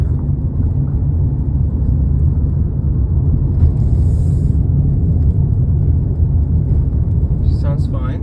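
A Honda car's engine and road noise rumble steadily and low inside the cabin while driving, constant and even throughout, with a few faint chirps near the end.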